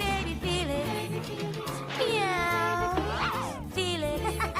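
Cartoon cat Baby Felix meows over a bright, busy musical backing, several drawn-out, wavering cat cries rising and falling, loud and close, with no talking.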